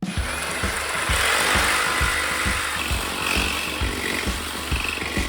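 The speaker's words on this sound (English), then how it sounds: "I'm gonna just cut that off square with the trusty Sawzall" A reciprocating saw slices off the end of a muffler pipe while building a custom exhaust for a Toyota MR2 Spyder, giving a loud, steady buzzing rasp with quick rhythmic strokes that runs for about five seconds.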